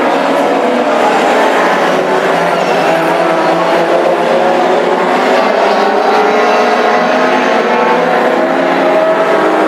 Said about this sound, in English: as he looks to kick in that gear and wind up the 16 car to chase 45 Craig Boyd.